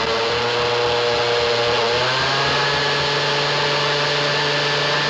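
A blender motor runs loud and steady throughout, a continuous whirring drone with a slight pitch shift partway through, alone with no voices.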